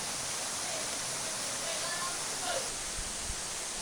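Tungtong Falls waterfall roars as a dense, constant rush of water, loud and unbroken throughout, with faint voices and a few low thumps near the end.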